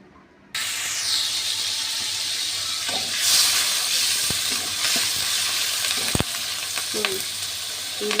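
Onion, garlic and prawns hit hot oil in a pan with a sudden onset, then a loud, continuous close sizzle with occasional scraping stirs and clicks, no voices.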